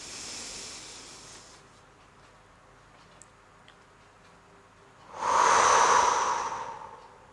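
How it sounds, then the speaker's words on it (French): Slow, deep diaphragmatic breathing: a soft breath fades out at the start, then after a quiet stretch a single loud, close, rushing breath swells and tails off. "Ça, c'était 5 respirations en mobilisant le diaphragme."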